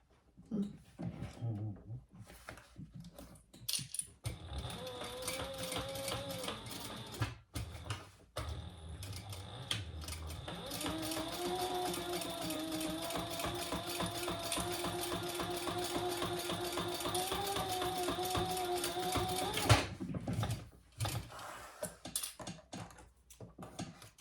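A sewing machine bastes fabric in place for an eyeglass case, a fairly quiet rapid clatter that runs in bursts with short stops, then holds one long continuous stitching run before halting.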